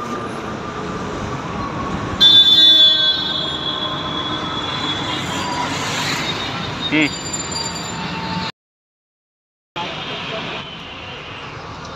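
A large diesel vehicle rumbles loudly and steadily at close range, with a high brake squeal as it pulls in to a state transport bus stop. Voices can be heard faintly under the noise, and the sound briefly cuts out near the end.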